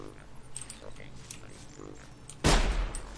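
A rifle firing in the video game Sir, You Are Being Hunted, one sharp loud shot near the end after quieter game ambience, with someone talking over the earlier part.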